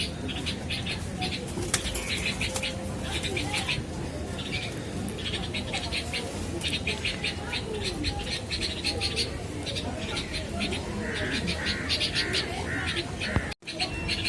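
White golden pigeons coo softly in repeated bursts amid a constant hiss, with occasional wing flutters and a sharp knock near the end.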